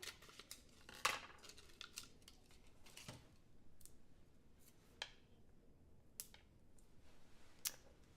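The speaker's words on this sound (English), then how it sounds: "I'm going to take this and cut a little bit of foam tape for the back of the tag" Scissors snip through foam tape while backing a card tag, a handful of quiet, sharp clicks and cuts spaced irregularly against a near-silent room.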